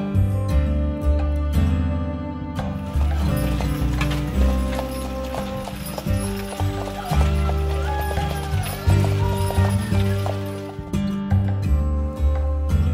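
A horse at Upper Canada Village, a heritage village, clip-clops steadily at a walk and whinnies, with farm-yard voices and other animal sounds mixed in close by.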